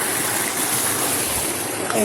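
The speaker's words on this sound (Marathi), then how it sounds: "तर पाण्याचा आवाज पण तुम्हाला वाढलेला दिसेल" Loud, steady rush of river water flowing nearby, a broadband roar filling the whole clip without pause, heard while wading downstream during crab catching.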